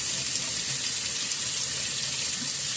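Water from a tap runs steadily over an English cucumber being rinsed in a sink, a constant bright hiss and splash, close and uninterrupted for a few seconds.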